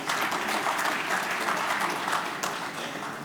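Steady applause from a conference audience at a startup agreement signing ceremony, dense and sustained throughout with no pauses, fading slightly toward the end.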